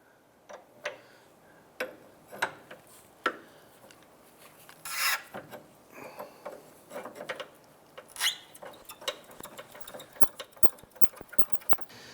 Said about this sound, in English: Use the 22mm to go ahead and loosen our jam nut right here